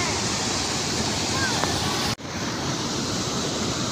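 Water rushes steadily at Panchghagh Falls, a broad, constant roar filling the air, with wind buffeting the microphone and a sharp handling bump partway through.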